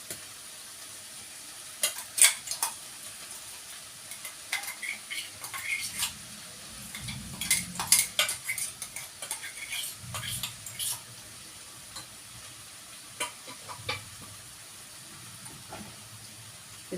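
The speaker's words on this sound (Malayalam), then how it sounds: "തേങ്ങയും കൂടി ഇട്ട് യോജിപ്പിച്ചെടുക്കാം" Grated coconut being stirred into a pan of mathanga payar thoran, a Kerala stir-fry of pumpkin and beans, giving soft scraping and stirring strokes over a faint sizzle, with no talking.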